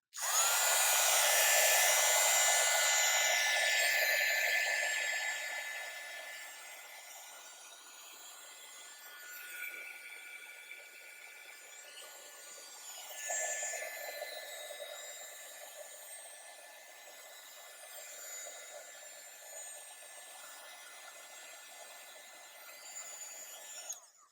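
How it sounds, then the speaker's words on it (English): A handheld craft heat tool blows hot air with a loud, steady whooshing whine at first, then drops to a quieter, uneven rushing as it is moved around. "I'm going to take my heat tool and heat it up"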